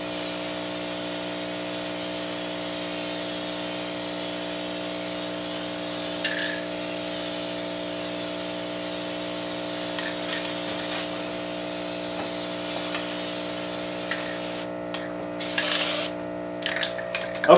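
Spray paint is applied to the top of a lid for a windowsill hydroponic herb planter. The hiss runs in long steady passes over a constant humming background, with a few brief clatters near the end.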